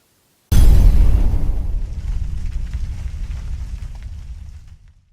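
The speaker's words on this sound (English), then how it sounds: "Cue explosion!" A single loud explosion sound effect bursts in after a brief silence, with a deep booming low end that rolls and slowly fades over several seconds.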